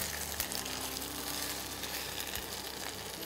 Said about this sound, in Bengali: এটা একটু ভালো করে ভাজবে, তাই তো, পোস্তটা দিয়ে?